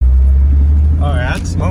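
A Nissan 300ZX engine idling after a SeaFoam treatment, a loud, steady low rumble close by, with a voice briefly speaking over it near the end.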